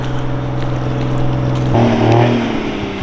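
A Toyota Tourer V with a 1JZ turbo engine and R154 gearbox drones steadily, then revs up sharply partway through, the pitch climbing and holding before easing back; no voices.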